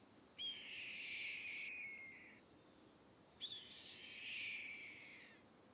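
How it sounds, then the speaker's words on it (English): Red-tailed hawk screams from the Nancy Drew game Ghost Dogs of Moon Lake, two long raspy descending cries a second or so apart, fairly loud and alone over a faint background hiss. "Red-tailed hawk."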